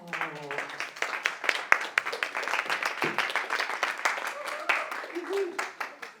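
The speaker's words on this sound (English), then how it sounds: "Let's give a round of applause and let's welcome Ousha Demello" Audience clapping welcomes a speaker at a presentation on publishing stories, a dense and steady round of applause at moderate level with scattered voices and a brief vocal sound at the start.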